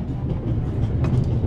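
A moving train rolls along in The Raven Remastered, an Orient Express crossing the Alps, with a steady low rumble and faint rhythmic clicking of wheels on rails.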